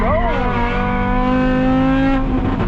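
A 2007 Mk5 Jetta with a 5-cylinder engine and 191k miles is driven hard on a race track, its engine droning loud and steady close up, with pitch sliding and holding, while a voice speaks over it.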